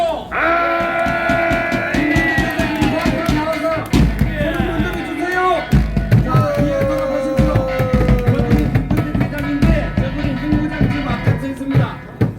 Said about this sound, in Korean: 큰 함성 한번 해주십시오